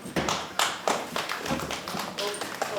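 Audience at a League of Women Voters candidates forum clapping, a dense close applause with some individual claps standing out.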